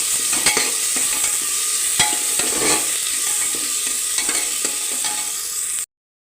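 Onion, tomato and bean masala rice mixture being stirred in a hot pan, with a continuous sizzle and regular scraping strokes of the spoon, close and fairly loud, no voices, cutting off abruptly near the end.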